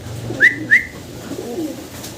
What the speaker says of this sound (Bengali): চমৎকার এক জোড়া হোমা কবুতর